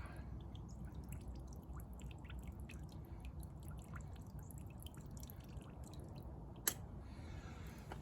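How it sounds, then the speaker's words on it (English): Fuel draining from the carburetor of an MTD snowblower with a 5 HP Tecumseh engine, a quiet continuous dribble with soft drips and one sharp click near the end. "I'm gonna take that C-clamp, relieve the pressure, and drain some out"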